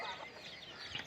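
Chickens roaming a sesame crop field give soft, scattered clucks over a faint outdoor background, fairly quiet and short with no talking.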